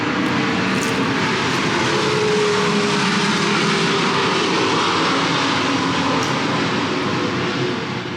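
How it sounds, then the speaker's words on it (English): An airplane passes overhead in a busy outdoor area, its engine a loud, steady roar holding throughout with a broad rushing wash and no talking. "planes overhead"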